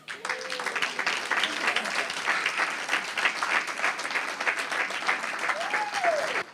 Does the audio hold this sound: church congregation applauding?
yes